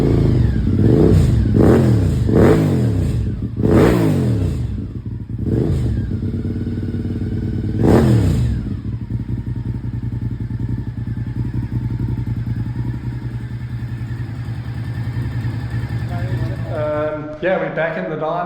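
A Honda VTR1000SP2 motorcycle on a dyno, fitted with a Power Commander 5, revs hard in several sharp rising bursts, then settles into a steady loud drone before a clattering close.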